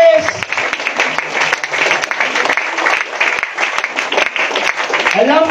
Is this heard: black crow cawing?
no